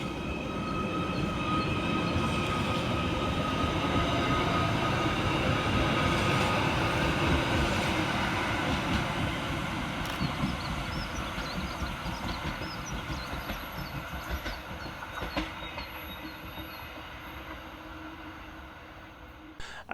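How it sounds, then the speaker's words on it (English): A Merseyrail Class 777 electric train pulls out of Maghull North station, its loud, steady motor whine and rumble rolling close by and then gradually fading as it moves away. "Next out to depart is 777-010, working the 10:19 Merseyrail service from Hunts Cross through to Ormskirk."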